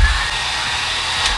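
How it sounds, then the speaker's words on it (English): A handheld hair dryer running on its low setting produces a steady, close whooshing hum of fan and airflow, with no voices present. "I have this hooked up to a splitter and a blow dryer."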